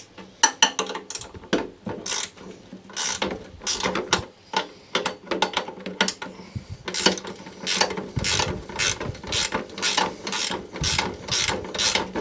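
Wrench loosening a 12 mm nut on a lawnmower, with a ratchet clicking in quick repeated bursts of rapid pawl ticks, close and clear, separated by brief pauses.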